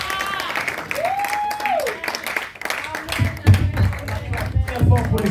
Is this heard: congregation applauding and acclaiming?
yes